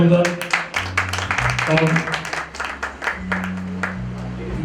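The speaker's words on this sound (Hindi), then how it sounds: "ऑर्केस्ट्रा के लिए जोरदार तालियां हो जाए जरा, सभी लोग बजाएं प्लीज" An audience at a cultural society concert applauds the orchestra in a loose, sustained patter of clapping mixed with a compere's voice and musical tones.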